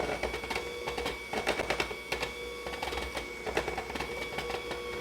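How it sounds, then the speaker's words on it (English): Electric hand mixer on medium speed beating cranberry orange coffee cake batter, a steady motor whir with irregular clattering of beaters against the bowl, close and continuous. "And one last go with this hand mixer. And we'll bump that up to medium."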